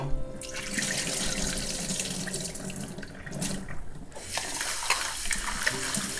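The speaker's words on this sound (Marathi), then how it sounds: "चांगल्याशी चोळून धुवायचे" Finger millet being rubbed and washed by hand in a water-filled bowl at a kitchen sink, a steady close wash of splashing, sloshing water with a running tap, continuous for several seconds with no talking.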